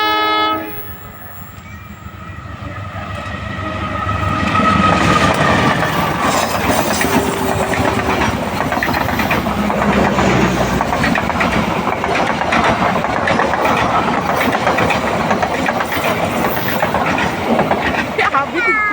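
A fast passenger train passes close by as a loud, sustained rushing roar. A horn sounds at the start, then a steady rattling clatter of wheels runs throughout. Voices are faintly audible beneath it.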